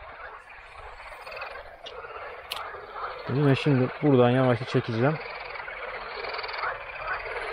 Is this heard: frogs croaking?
yes